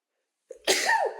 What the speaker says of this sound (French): Et je suis désolée, j'ai éternué.